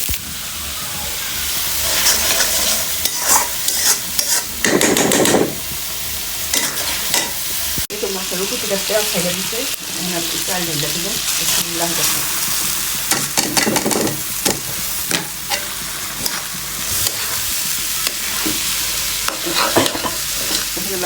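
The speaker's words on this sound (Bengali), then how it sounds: "ভালোভাবে কষাইয়া ভাজা ভাজা করে" Garlic paste, turmeric, chilli powder and salt sizzle in a hot pan while a spoon scrapes and stirs in quick, uneven strokes, with a steady frying hiss underneath throughout.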